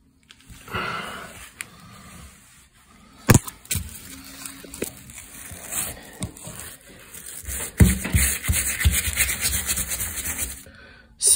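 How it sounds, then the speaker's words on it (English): A signature is scrubbed out of a sports jersey by hand with cleaning product, giving a series of rubbing and brushing strokes in uneven bursts. The strokes are close and moderately loud, with short pauses between them and no speech. "I'm still scrubbing away at it."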